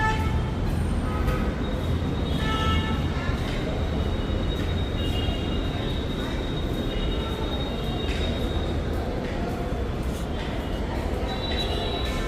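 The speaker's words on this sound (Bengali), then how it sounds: "মেট্রো স্টেশন চলে এসেছি" A metro train rumbles through a station, with a continuous loud roar of wheels, brief high squeals and faint crowd voices mixed in throughout.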